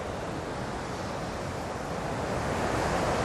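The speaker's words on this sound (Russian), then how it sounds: "Видите, как волны набегают." Black Sea waves rolling onto the shore at an Anapa embankment, heard as a steady, broad wash of surf that is mixed with wind noise against the microphone and swells slightly toward the end.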